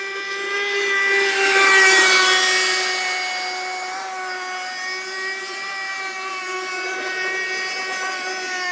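A Kyosho FMR21V nitro RC racing boat engine whines loudly and steadily on the water, a high buzzing tone with strong harmonics that swells as the boat passes close, then holds at a slightly lower, continuous drone.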